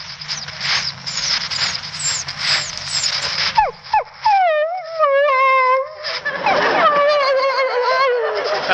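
A man imitates a dog whimpering to be taken along, with a run of high, wavering whines and rising yelps, loud and close with no other talk.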